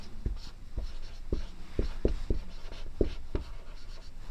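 Chalk tapping and scratching on a board during a maths lesson, a series of short distinct strokes and taps in an uneven rhythm, close and fairly clear in a quiet room.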